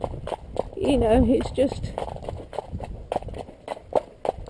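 A horse walks with clip-clopping hooves, a few irregular steps heard near the microphone while a person speaks over them throughout.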